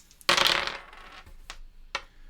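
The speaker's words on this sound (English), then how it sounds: "I'm going to go ahead and use up an oxygen to re-roll the dice that are not in the dice pool" Dice re-rolled during a solo board game: a sudden close clatter as they scatter and tumble across a surface, then two brief sharp clicks as stragglers settle, no talk.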